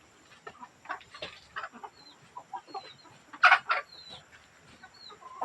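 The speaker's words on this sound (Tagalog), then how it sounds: "dami dito ng mga manok" Chickens clucking in short, irregular bursts at a rural farmyard, moderately close, with one louder squawk midway and faint bird chirps in the background; no talking.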